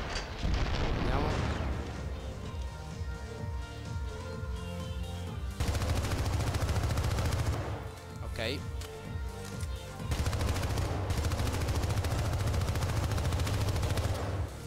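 Grenade launcher blasts and dense gunfire in the video game Syndicate, heavy booming explosions and continuous rattling shots in loud, overlapping waves, with a brief spoken word in the mix.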